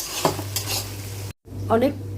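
A utensil scrapes and stirs a large batch of meat browning in a pan over a gas flame, soft sizzling beneath clinks of metal on the pan's surface, close by.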